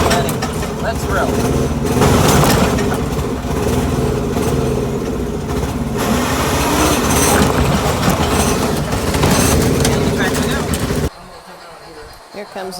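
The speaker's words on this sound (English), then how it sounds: "Here comes the train." A train rolls past on the tracks, a loud close rumble with rattling wheels and clatter that drops off abruptly near the end.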